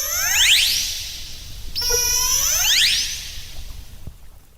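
High, sweeping whistles and squeals from orcas, rising and falling in pitch, repeated in a few bursts over a soft underwater hiss.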